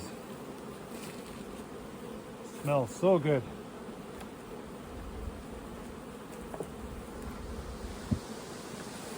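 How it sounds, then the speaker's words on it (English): Bees buzz around beehive frames as they are lifted, a soft steady drone with a few louder passes close by for a moment, while a person speaks briefly. "Buzz, buzz, buzz."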